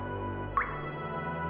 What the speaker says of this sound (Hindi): अगर एक सेकंड में पानी की दो बूंद गिरती है